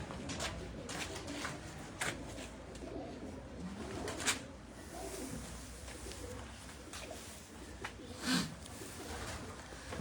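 Pigeons coo softly and repeatedly from a rooftop above Kotli Bazaar, a faint, distant layered cooing with occasional sharper calls over a quiet outdoor background.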